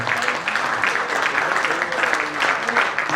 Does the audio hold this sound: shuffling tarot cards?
no